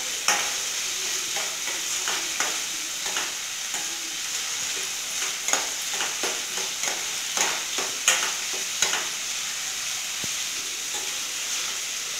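Onions sauté in oil for a fish curry, a soft continuous hiss and sizzle with intermittent scraping stirs of a spoon against the pan, close and moderately quiet.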